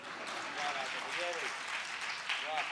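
Audience clapping and cheering at a Hindi comic poetry recital (hasya kavi sammelan), a steady wash of applause lasting a few seconds with crowd voices mixed in.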